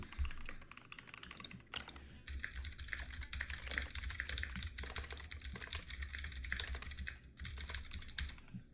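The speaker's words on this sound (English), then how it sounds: "that's a loud keyboard." A loud computer keyboard rattles with rapid, continuous typing close to the microphone, the dense clatter of keystrokes running almost unbroken from start to finish.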